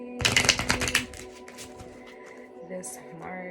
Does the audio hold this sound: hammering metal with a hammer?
no